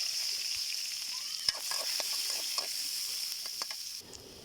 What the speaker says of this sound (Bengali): তারপরে তো পেঁয়াজ কুচি, রসুন আর কাঁচামরিচ এখন এই তেলে দিয়ে দেবো।